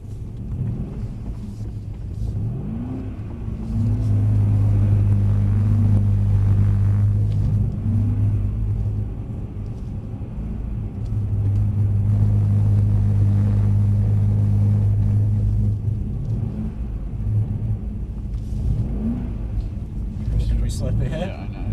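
A Mercedes C63 AMG lapping a wet skid pan circle at gentle revs, its engine a steady low rumble that swells into sustained drones and eases off again, heard from inside the car under ongoing conversation.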